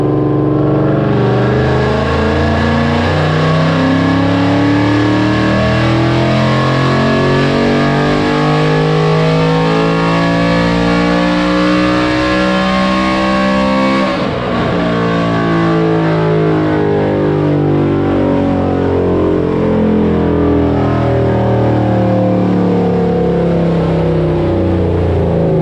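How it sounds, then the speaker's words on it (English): A 2019 Mustang GT with a built engine and Whipple supercharger on E85 roars at wide open throttle on a Mustang dyno in sixth gear, a loud, sustained engine howl climbing steadily in pitch, with a brief dip midway. "we was able to go wide open throttle and put it on dyno."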